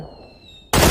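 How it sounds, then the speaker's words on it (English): A single sudden, loud gunshot in the battle royale game PUBG bursts in near the end after a stretch of quiet ambient tone, sharp and close. "I take a shot at him."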